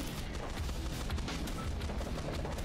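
Continuous auto-firing weapon in the video game Swarm Grinder, a dense, steady barrage of rapid shots and booms layered into a constant loud rumble with no pauses.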